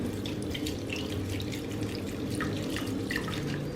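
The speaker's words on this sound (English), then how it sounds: "I put a bowl underneath, and then I put a strainer over it, and then I let the water run over it" Tap water pours over a strainer set on a bowl in a sink, rinsing freshly picked blue vervain flowers, a steady close splashing rush with small drips that holds constant throughout.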